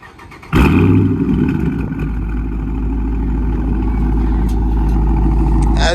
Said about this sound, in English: I'm gonna go ahead and give you guys a little cold start of what it sounds like.